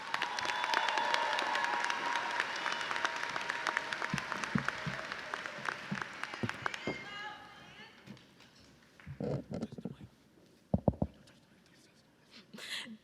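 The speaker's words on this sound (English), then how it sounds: "let's give her a round of applause." A graduation audience at a high school commencement applauds the senior keynote speaker, dense clapping that fades out after several seconds, followed by scattered footsteps, bumps and a voice speaking.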